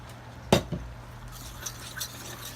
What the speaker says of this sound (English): if you stir it like this until you get it creamy